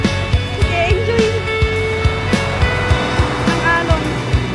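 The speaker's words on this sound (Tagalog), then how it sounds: "Ang alon." Ocean waves rumble and wash steadily at a beach, with rhythmic thumping and people calling out over the surf.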